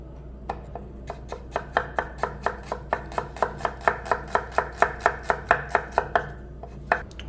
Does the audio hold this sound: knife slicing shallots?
yes